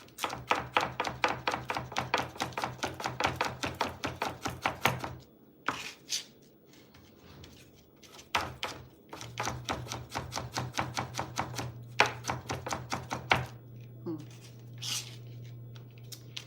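A knife finely shreds ginger by hand on a board for a green mango and shrimp salad, making rapid, steady chopping taps in long runs, pausing briefly, with a low hum underneath.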